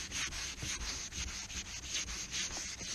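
Fine-grit sandpaper rubbing over the rubber rear spoiler of a Saab C900, with a steady, close, continuous scratchy swishing in even back-and-forth strokes.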